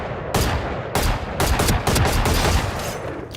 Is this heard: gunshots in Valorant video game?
yes